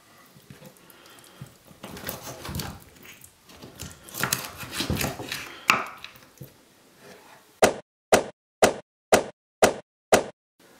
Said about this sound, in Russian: Крылья нужно разрезать на 2 части.